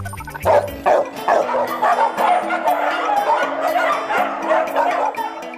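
Many dogs at an animal shelter near Brasília bark and yip continuously, a dense overlapping chorus of close, loud barks with a faint voice underneath.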